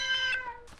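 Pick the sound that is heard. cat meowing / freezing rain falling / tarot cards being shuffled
cat meowing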